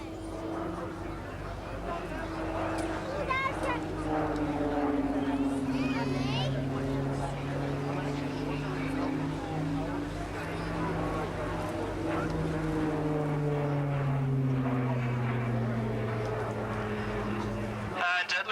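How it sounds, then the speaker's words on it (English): At an air show, a jet aircraft approaches and passes with a steady, droning engine roar that shifts slowly in pitch, while a voice talks over it throughout. "Jet coming."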